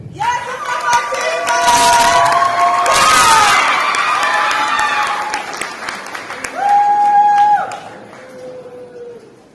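A school graduation audience bursts into loud applause and cheering, with children shouting over dense clapping that swells, holds, then tapers, while a voice briefly rises above the crowd near the end.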